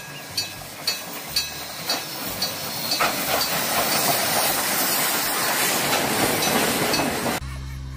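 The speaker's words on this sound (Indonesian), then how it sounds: "kereta api Thomas" A Thomas the Tank Engine toy train chugs with rhythmic puffs. These build into a steady loud steam hiss that runs continuously until an abrupt cut near the end. No one speaks.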